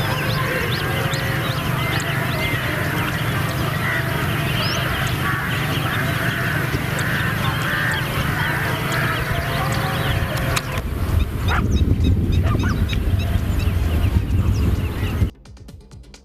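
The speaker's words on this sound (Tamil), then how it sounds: "வெளிநாடுகளில் இருந்து பிளமிங்கோ பறவைகள் பல்லாயிரம் மைல்கள் கடந்து தமிழக கடலோர" A large flock of migrating flamingos calls along the Tamil Nadu coast, a dense, steady chorus of overlapping honking cries that carries on for a long stretch before the scene changes.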